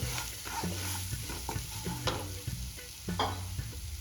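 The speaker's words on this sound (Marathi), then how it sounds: "हळद इथे छान मिक्स करून घ्यायची" A spoon repeatedly scrapes through sizzling spiced masala as turmeric is mixed in for vada pav potato filling. Rhythmic stirring strokes sound close over continuous frying, with no voices.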